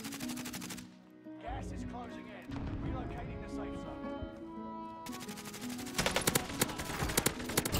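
Gunfire rattles in a Call of Duty Warzone match on Caldera: rapid automatic bursts, loud and close, surge at the start and again near the end, with someone talking in the middle stretch.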